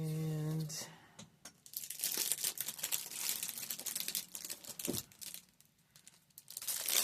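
A pack of heavyweight paper, like light cardboard, being handled: repeated crinkling, rustling and crumpling close to the microphone, irregular and continuous, with a voice briefly at the start.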